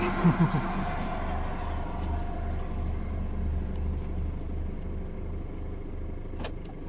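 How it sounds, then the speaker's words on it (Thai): A car engine idles steadily with a low, even rumble throughout, alone with no talk, plus a brief knock near the start and another near the end. "ดับเครื่องรถดีกว่า"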